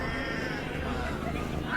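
A cat meows loudly and continuously, a drawn-out caterwauling cry that fills the whole moment, close and strained, with a busy noisy background behind it.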